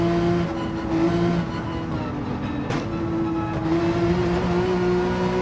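A mid-engine, rear-wheel-drive Porsche 911 GT3 race car runs a loud, continuous engine note with a brief dip and a sharp click near the middle before the drone builds back, no voices present.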